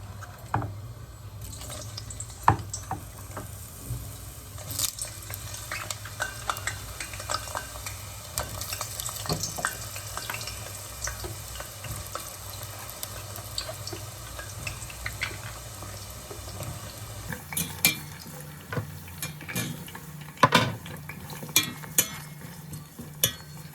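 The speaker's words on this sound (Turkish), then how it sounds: "İyice kızarsın ki çok yağ çekmesin patlıcanlar." Eggplant slices fry in hot oil with a constant close sizzle, broken by occasional clinks and stirring sounds.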